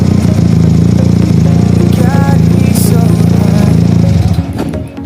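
A motorcycle engine runs loud and close with a steady, throbbing low hum for about four seconds, then is switched off and winds down into quiet.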